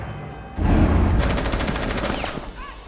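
Rapid automatic gunfire in the video game Rainbow Six Siege during a Halloween event match: a loud burst of closely spaced shots that rattles on for about a second over a busy game backdrop, with a few faint clicks after.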